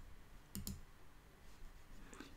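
Two quick mouse clicks close together during a software app test, crisp and near in a quiet room, followed by faint background noise.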